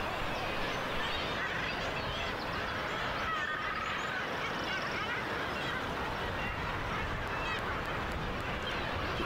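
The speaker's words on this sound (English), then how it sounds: "Razorbill, Guillemot, Kittiwake, and Fulmer all nest by the thousand." A busy seabird colony of razorbills, guillemots, kittiwakes and fulmars nesting by the thousand on Skomer Island cliffs, a dense continuous wash of overlapping calls and cries at moderate distance.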